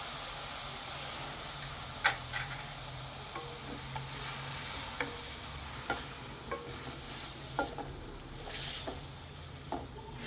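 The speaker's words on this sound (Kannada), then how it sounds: "ಈಗ ಇದಕ್ಕೆ ನಾನು ಸ್ವಲ್ಪ ಬಿಸಿ ನೀರನ್ನು ಸೇರಿಸ್ಕೊತೀನಿ." Hot water is added to a tomato masala softening in a pan for a dhaba-style paneer curry, giving a steady sizzle with scattered ticks and stirring clinks, moderately loud, with no talking.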